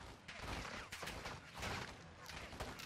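Rapid gunfire from Modern Warfare 2 (2022) crackles through a dense battle din, shots overlapping in loud bursts with brief lulls, full and close throughout.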